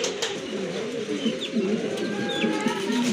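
A large pair of ash-coloured Mundian pigeons coos steadily, their low, throaty rolling calls repeating close by over the whole stretch, with faint background noise and no talking.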